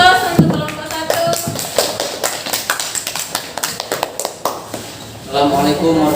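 Audience applause for the first group at a classroom presentation session, a run of scattered claps and taps with voices talking at the start and end.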